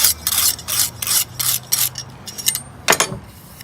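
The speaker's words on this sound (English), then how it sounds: "I'm going to sharpen the point up" A knife point sharpened on a sharpening system, with a close series of rhythmic abrasive strokes, about eight scraping passes of the blade across the stone with short pauses between them.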